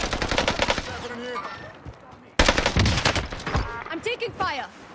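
Rapid automatic gunfire rattles in a Warzone match, dense bursts of shots close by with a sharp louder volley midway, while players talk over the shooting.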